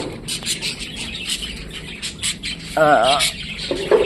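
A cockatiel gives sharp, raspy squawks and chirps, loudest in a burst near the end, over light background chatter and rustling.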